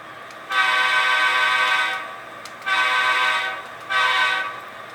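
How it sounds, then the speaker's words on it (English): A model train horn sounds in a rail yard during a backing-up move: three sustained, buzzy honks, each lasting about a second or more, separated by short gaps over a faint background hum. "I'm not sure if they actually honk the horn like that when they're going to be backing up when they're in the yard."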